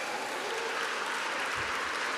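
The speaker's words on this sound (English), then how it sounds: "So that's a good thing to clap for." A gala crowd applauding steadily throughout, a dense, even wash of clapping with no voices over it.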